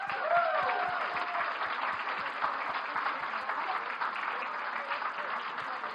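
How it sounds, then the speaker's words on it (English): An audience claps at the close of an international contest, sustained and even applause at moderate volume, with a few voices faintly mixed in. "Let's give them another round of applause"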